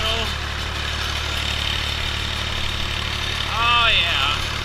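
A tractor engine strains while pulling with the differential locked and the tires spinning, a steady low mechanical drone with a rising whine near the end.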